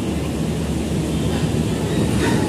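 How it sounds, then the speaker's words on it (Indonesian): Jayakarta passenger train pulling away from Bekasi station on track 3, bound from Pasar Senen to Surabaya Gubeng: a steady, dense rumble with broad rolling noise held throughout, close and loud, without clear wheel clacks. "Di jalur 3 kereta api Jayakarta diberangkatkan dari stasiun Bekasi ya, guys."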